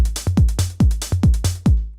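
A programmed drum-machine groove on an AKAI MPC Live: punchy kicks with descending pitch alternate with bright snare and hi-hat hits in a steady, repeating pattern, loud and close with no talking.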